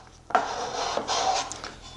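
A sanding block rubs along the corners of edge banding on a panel in a woodworking shop, giving a few short dry scraping strokes, close and fairly quiet with no talking.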